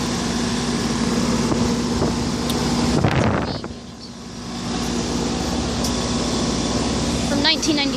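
A 1996 Rheem 4-ton central air conditioner with a Copeland scroll compressor and a two-bladed GE-motor fan runs steadily outdoors, a loud continuous hum and whir with a brief dip midway and a faint click near the end.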